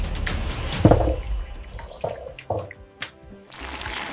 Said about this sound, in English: wash the goat meat thoroughly